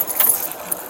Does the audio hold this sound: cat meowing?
no